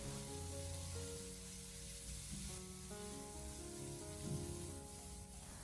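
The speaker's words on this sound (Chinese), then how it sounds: "我们开大火把它持续的翻炒半分钟左右，把豆角给它炒出锅气" Green beans and minced pork stir-fried over high heat in a wok, giving a steady, close sizzle with soft scraping of the spatula throughout, no voices.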